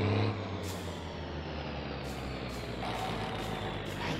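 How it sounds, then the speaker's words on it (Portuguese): A truck engine in the driving game My Summer Car sputters and rumbles continuously, with a steady low drone broken by several short hissing bursts, loud and close with no talking. "Engasgou o caminhão, engasgou o caminhão."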